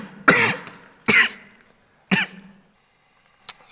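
A patient in a doctor's office, sick for five days with high fever, runny nose and sore throat, coughs in three strong separate bursts about a second apart, followed by a fainter fourth cough, with near silence between them.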